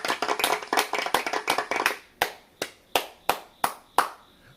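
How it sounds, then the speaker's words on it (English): A small group claps hands in a quick, fast round that thins out into a handful of slower, separate claps, heard alone with no voices, at a spiritual gathering. "Get a round of applause."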